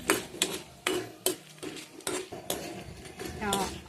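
Dried red chillies and gongura leaves being fried in a pan for Telugu chutney, heard as repeated close metallic scrapes and clinks of a spoon against the pan at a steady stirring rhythm, with no talk.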